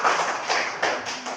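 Primary schoolchildren in a classroom clap in a fifth-grade lesson in Indonesia, giving a short run of several quick, close bursts of hand claps.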